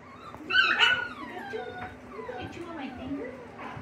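Miniature Schnauzer puppies whimpering and yipping while they play, a cluster of high thin whines and squeaks close by, with a person talking over them.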